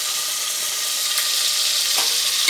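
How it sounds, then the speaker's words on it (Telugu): Chopped tomatoes fry in hot oil for a spicy mutton gravy curry, giving a steady, loud, close sizzle with a few brief scraping stirs through the pan and no talking. "అవి కూడా వేగే వరకు ఆగాలి. తిప్పుతూ ఉండాలి, మొత్తం కలుపుతూ ఉండాలి."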